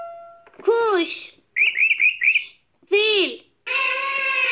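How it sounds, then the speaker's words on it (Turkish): Recorded bird chirping from a Fisher-Price puppy activity table toy: bright electronic tweets and warbling calls in several short bursts, close and clear, alternating with synthetic whistle-like tones and no talking. "kuş"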